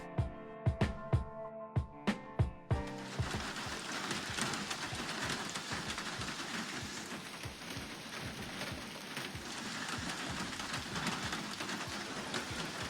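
Rain falls steadily on a forest trail in the Appalachian mountains near a rhododendron, a dense continuous hiss of drops after a few sharp close taps at the start, no talking.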